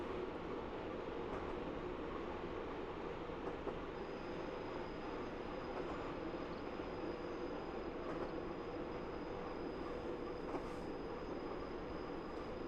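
Class 101 diesel multiple unit on the Falmouth branch in a train simulator coasting with throttle off, a steady rolling rumble with faint wheel clicks and a thin high whine throughout.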